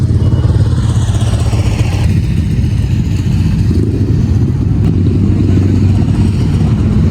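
Superbikes, including BMW machines, rumble at a weekly Friday motorcycle meet in Kuwait, a loud continuous mix of idling and revving engines close by, with clattering mechanical noise and no clear break.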